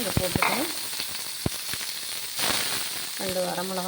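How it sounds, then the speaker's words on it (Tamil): Chopped small onions drop into hot oil already holding mustard seeds, urad dal and cumin, giving a steady frying sizzle with a few sharp pops and stirring clinks, and a brief voice near the end. "சின்ன வெங்காயம் நறுக்கி வச்சுருக்கேன்,"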